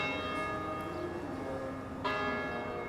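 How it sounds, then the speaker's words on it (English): A Toronto clock tower bell tolls with sustained, ringing tones that hang over a steady urban hum, with a fresh strike landing near the end. "That's where the clock tower, the bell that we're hearing."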